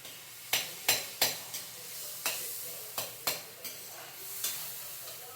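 Softened tomato stirred in a frying pan while making Maggi noodles: a steady low sizzle runs throughout, broken by several sharp clinks and scrapes of a spoon against the pan, close by.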